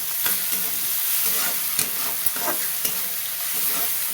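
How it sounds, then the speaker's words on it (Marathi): Green chillies fry in hot oil in a home kitchen, a steady close sizzle broken by sharp clicks and scrapes of a spoon stirring through them. "तेलात परतून घ्यायची हिरवी मिरची चांगली एकदम"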